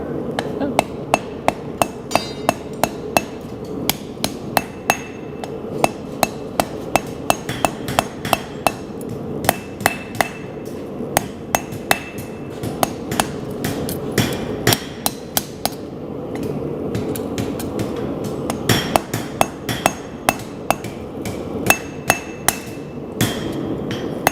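Hammer blows forging a hot spring steel knife blade at a bladesmithing forge, a long run of sharp ringing metallic strikes in quick steady bursts with brief pauses, loud and close over a constant background roar.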